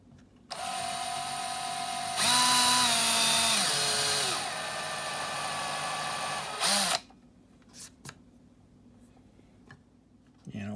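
A power drill fitted with a 13/64 bit bores holes for a grinder tool platform mount, a steady whine that rises in pitch and then winds down after a few seconds, followed by quiet handling sounds.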